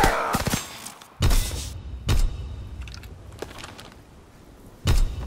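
Artillery fire in a WW2 video game, several heavy booming shots at irregular intervals, loud and close, with quieter mechanical clatter between them.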